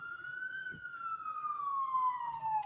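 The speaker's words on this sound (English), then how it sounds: "There's the sirens." A single siren wails with a slowly falling tone, moderately loud and somewhat distant, heard from indoors through open windows, over faint background noise.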